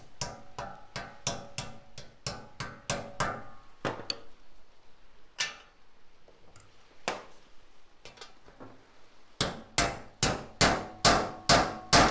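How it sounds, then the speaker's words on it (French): Rubber mallet hammering on a café racer motorcycle frame during frame construction, seating a bearing ring: sharp, close strikes in quick rhythmic bursts, a sparse pause with scattered knocks mid-way, then another rapid run of loud blows. "Ici encore, j'utilise un marteau en caoutchouc."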